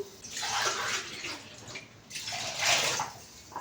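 Glasses of water tipped into a pot of chicken fry piece biryani come as two steady rushing pours with a short gap between them, close up and with no voices.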